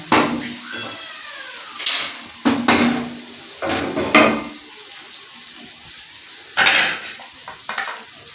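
Cooked cauliflower masala mashed in a pan, a series of loud, close spoon knocks and scrapes against metal in uneven bursts, with gaps of near quiet between them.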